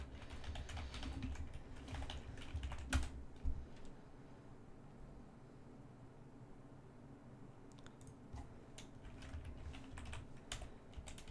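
Typing on a computer keyboard while writing Python code, a steady patter of soft, close key clicks with a few louder taps, running continuously through the stretch.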